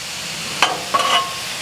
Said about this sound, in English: All right, we're gonna slide these onions on over to the side.